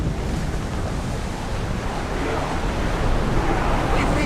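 Open-water ocean waves in Assassin's Creed Odyssey, a steady broad wash of surf and wind rushing continuously at moderate loudness with faint talk mixed in.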